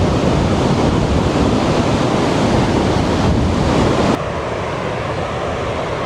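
Rushing water roars in a loud, constant broadband wash as an Alaskan waterfall pounds rock nearby, easing slightly toward the end.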